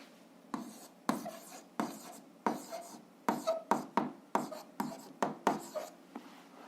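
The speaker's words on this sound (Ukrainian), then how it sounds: "записуємо відповідь, пишемо відповідь" Pen writing out an answer to a seventh-grade algebra exercise, a series of scratchy strokes and taps on paper in quick bursts, close and fairly quiet, with no one speaking.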